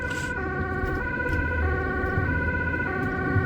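A Dutch ambulance siren wails through heavy rush-hour traffic, its steady two-tone pattern switching every second or so, fairly close and loud over a dense bed of traffic rumble.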